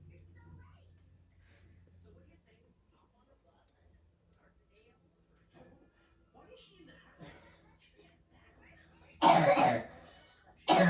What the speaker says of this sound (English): Sorry if you hear coughing in the background.